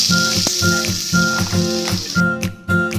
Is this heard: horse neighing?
no